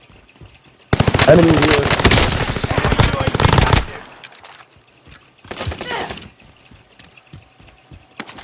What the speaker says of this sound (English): Stop machine gunning.